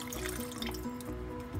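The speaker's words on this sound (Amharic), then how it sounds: "ውሃ እናረግበታለሁ" Water is poured into a pot of meat browning on the stove for a stewed Ethiopian dish, giving a steady splashing and trickling pour with faint drips and no talking.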